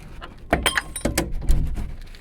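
A handleless door being pried open with a cut piece inserted in the hole, making a few close metallic clicks, scrapes and clunks in short bursts.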